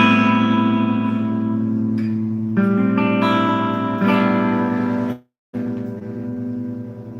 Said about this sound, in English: this is the reverb